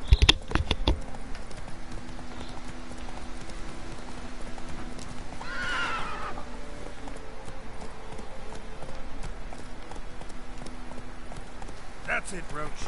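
Horse hooves clip-clopping at a gallop in The Witcher 3 on Switch, a steady rhythm throughout with a brief whinny midway, under a talking voice.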